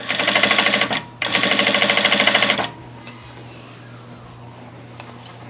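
An industrial sewing machine, a Vevor, runs a straight stitch through baby bloomer fabric. It gives two loud rapid bursts of steady mechanical ticking, with a short pause between them, then stops and leaves quiet room sound with a few faint clicks.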